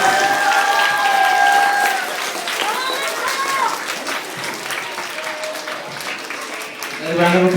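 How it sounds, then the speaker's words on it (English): Audience applause at a police department Red Ribbon Week school event, steady dense clapping from a crowd with children's voices calling and chattering over it, fading slightly midway then swelling again at the end. "Give her another round of applause"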